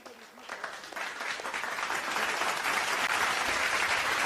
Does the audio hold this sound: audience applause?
yes